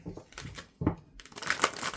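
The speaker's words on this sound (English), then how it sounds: "Let me get a good shuffle." A deck of tarot cards shuffled by hand, with papery crinkling, riffling and soft slaps in a couple of quick bursts, close and moderately loud.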